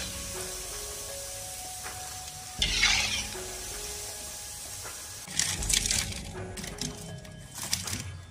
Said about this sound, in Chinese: 看这锅，煎的比之前都好多了。